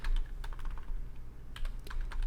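A teacher types on a computer keyboard during a physics class, producing quick clusters of crisp key clicks separated by short pauses. The clicks are close, clear and unaccompanied by speech, over a faint low electrical hum.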